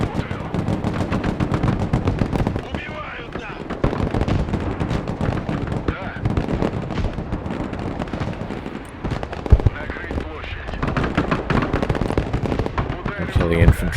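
Dense, continuous gunfire and explosions from the Broken Arrow video game, with rapid machine-gun bursts and heavier impacts layered throughout a battle mission.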